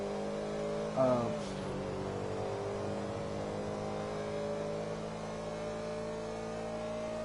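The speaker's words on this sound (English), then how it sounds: "this car hits 120 miles an hour on the straightaway" A car engine in GTA V revs and accelerates with a brief rising surge near the start, then settles into a steady, sustained drone at high speed; no talking.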